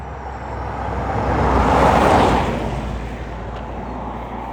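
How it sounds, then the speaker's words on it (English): A car speeds past on a road through a quiet natural area in spring, its broad rushing noise swelling as it nears, peaking midway, then fading away, with no talking. "Here comes a car."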